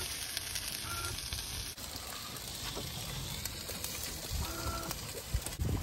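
Vegetarian haggis frying with tomatoes and peppers in a pan aboard a boat, a steady close sizzle and crackle running throughout with occasional stirring clatter.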